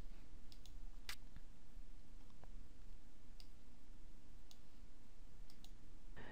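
Sparse computer mouse clicks and a few keyboard taps, faint and isolated against a quiet room hiss, with no talk.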